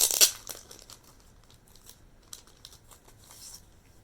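Paper crafts being pulled out of a Nendoroid figure box make a sharp burst of paper crinkling, followed by quieter rustles and handling clicks close by.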